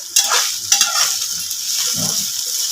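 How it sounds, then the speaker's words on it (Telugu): Chicken 65 with sauces stir-frying in a pan, Andhra style, giving a steady close sizzle with a few sharp spatula clatters near the start and a soft scrape later on. "ఒక ఫైవ్ మినిట్స్ టూ నుంచి ఫైవ్ మినిట్స్ ఫ్రై చేసుకోవాలి"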